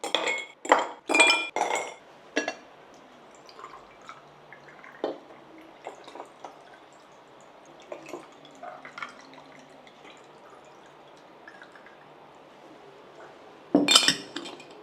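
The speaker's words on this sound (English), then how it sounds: "I'm gonna serve them into these beautiful glass with more ice." Sherbet drinks being served into glasses with ice, a cluster of bright clinks and knocks of ice and glass at the start, scattered soft taps and pouring sounds in the middle, then another sharp clink near the end; no talking.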